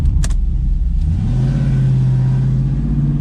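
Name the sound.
LS 5.3 V8 Chevy S10 truck accelerating on drag strip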